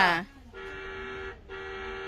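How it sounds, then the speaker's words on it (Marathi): A steady, sustained car horn tone sounds twice with a brief gap between, after a short burst of voice at the start. "अरे आपले हॉर्न बिन मारता."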